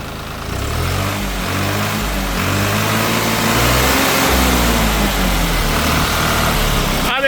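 A New Holland special edition tractor engine revs on the hand throttle, its loud droning pitch rising and falling in smooth sweeps without a break.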